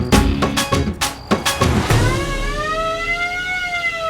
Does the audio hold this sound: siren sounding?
yes